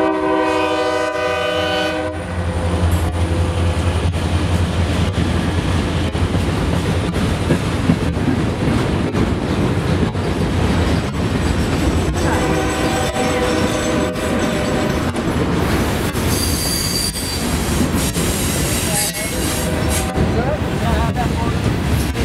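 A freight train with a standard cab locomotive and Herzog ballast cars passing, loud horn blasts at the start and later over a steady rolling rumble and clatter of wheels, with a voice heard briefly.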